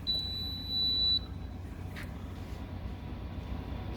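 A conventional fire alarm panel sounder gives one sustained, high electronic tone that stops after about a second, followed by a brief faint chirp over a quiet background hum.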